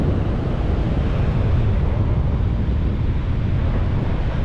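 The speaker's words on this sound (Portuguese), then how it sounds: "E o ventão de frente aqui." Strong wind buffets the microphone on a beach of fine, soft sand near the sea at Ilhéus, Bahia, a loud, steady roar with no voices.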